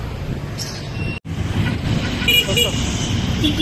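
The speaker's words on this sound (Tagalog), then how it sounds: "May dumarating na jeep" A jeepney drives up along a busy street in Cavite, its engine rumble joined by a short horn toot amid steady traffic noise and nearby voices.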